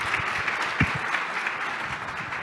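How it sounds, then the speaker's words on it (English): Steady audience applause for a panel at a fintech conference session, even and sustained throughout with a few low thuds mixed in. "big round of applause for our panel."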